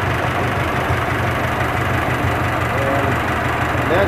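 A 1924 Kissel calliope circus truck engine idles steadily nearby, a loud, even low rumble with a faint knocking pulse that holds unchanged throughout.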